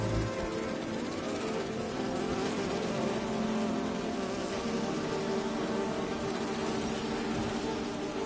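Bee wolves in a video game buzz in a dense, continuous insect drone, close and steady throughout with no talking.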